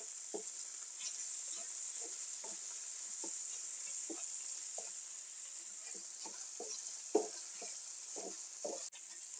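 Pickles and tomato paste fry in a pan for pickle menemen, a steady high sizzling hiss with scattered spitting pops and stirring taps, one sharper splatter near the end, no speech.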